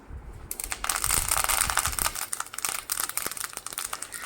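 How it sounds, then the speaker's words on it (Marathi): Mustard seeds and curry leaves hit hot oil in a home kitchen pan, bursting into a loud, dense crackling sizzle that sputters on with sharp pops. "तेलात थोडीशी मी मोहरी टाकली कढीपत्ता टाकते"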